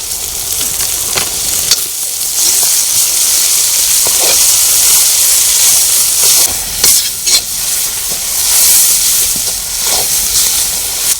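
Spinach paste hits a hot pan of sautéed onions for a Kathiyawadi green olo, setting off a loud, steady sizzle and hiss with scraping stir strokes throughout.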